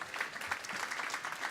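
Applause from a crowd at a city budget forum hosted by the mayor, dense continuous clapping throughout at a moderate, somewhat distant level.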